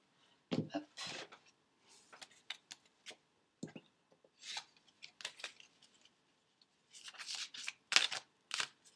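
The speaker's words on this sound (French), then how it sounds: "J'ai bien envie de tirer quand même encore une carte ou deux, ami Capricorne" Tarot cards are shuffled and drawn in short, crisp, close bursts of riffling and snapping, separated by brief quiet gaps.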